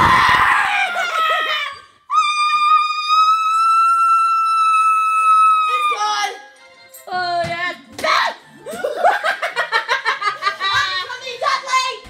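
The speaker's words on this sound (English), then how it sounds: "we'll scream together" Group scream during a Let's Play of Kirby's Return to Dreamland, a long sustained high-pitched shriek held for several seconds and followed by chaotic shouting and laughter from several voices.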